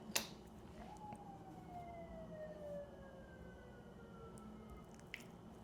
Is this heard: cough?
no